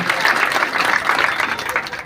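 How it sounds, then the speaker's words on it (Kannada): Sustained audience applause at a Sharana victory celebration ceremony in Basavakalyana, a dense even clapping texture filling the hall, loud and continuous throughout with no voices over it. "ಚಪ್ಪಾಳೆಯೊಂದಿಗೆ ಶರಣ ಶರಣಾರ್ಥಿಗಳನ್ನು ಮಾಡೋಣ"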